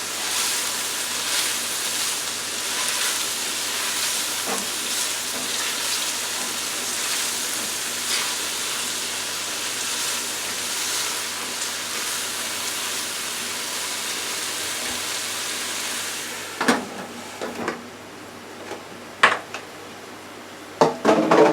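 Peppers, onions and mushrooms sauté in a pan with a steady, close sizzle, later broken by a few sharp clatters of a utensil against the pan.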